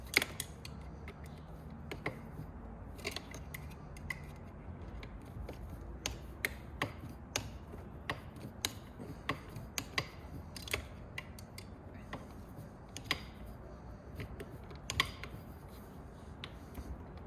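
Bolts being tightened during a motor change on a Titan 440 sprayer fitted with a Wagner 3.21 motor: steady close mechanical clicks and creaks with sharp ratchet-like ticks spread irregularly across a low background hum.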